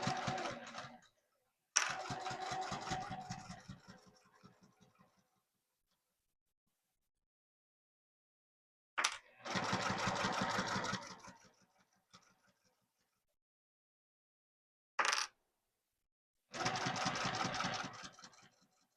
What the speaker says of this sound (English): stitch very close to that bottom edge of the trim to attach that to